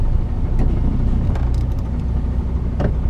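A car idles or creeps close by, heard from inside an HGV cab as a steady low rumble with a few faint clicks and knocks over it.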